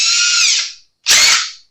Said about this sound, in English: Love to drill into guitars.